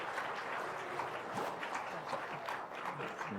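Congregation applauding inside Jamsil Central Church at a year-end Sunday school certificate ceremony, a steady dense clapping wash heard at moderate distance with faint voices mixed in.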